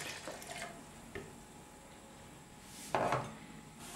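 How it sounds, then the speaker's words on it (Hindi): Milk splashes into a mango, banana and celery shake in a blender jar, a short, close liquid gush near the end after quieter kitchen clinks. "अब इसमें हम मिल्क डालेंगे"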